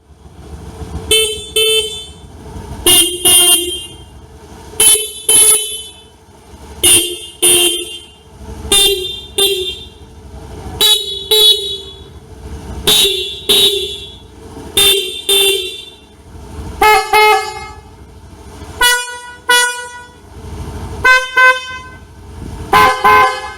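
Two aftermarket horns fitted to a Honda Beat eSP scooter-style motorcycle sound in repeated short and long blasts, loud and close, with brief pauses between honks and a few quicker double toots near the end.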